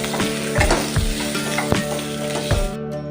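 Onion, whole garlic cloves and ginger fry in hot oil in a pan with a loud, continuous sizzle and crackle, broken by several thumping stirs of a spoon at an irregular rhythm.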